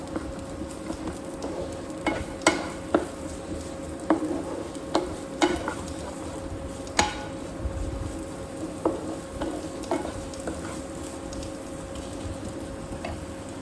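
Chopped ginger and green chilli are lightly sautéed in oil for semolina pakoras, with a soft steady sizzle under regular spoon taps and scrapes against the pan.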